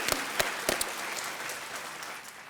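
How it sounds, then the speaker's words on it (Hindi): Studio audience applauding on the Kaun Banega Crorepati TV quiz show, a dense burst of clapping with a few sharp claps up front, then sustained and fading slightly. "तालियों के साथ रितु जी का हम अभिनंदन करते हैं"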